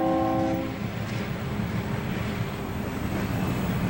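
A New York Electric and Gas freight train rumbles past, its horn sounding briefly at the start before the steady, loud roar and rattle of the passing cars take over.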